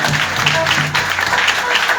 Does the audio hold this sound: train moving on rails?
no